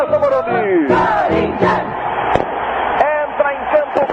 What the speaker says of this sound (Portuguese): Já acostumada, fiel torcida corintiana, que empolga, se emociona e transmite mais do que nunca esse entusiasmo na entrada do time.